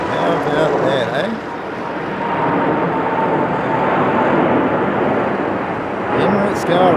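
An Emirates Airbus A380 performs a go-around, its engines giving a loud, steady roar that fills the whole stretch and is heard from the ground at an aero club, with people talking over it.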